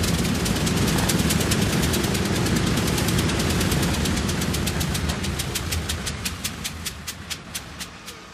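A B-29 bomber's radial piston engine runs loud and steady with a rapid, rough pulsing beat that thins out toward the end, with no voices over it.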